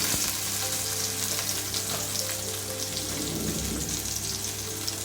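Chopped onions frying in a little mustard oil in a kadai: a dense, steady sizzle close by, with no talking.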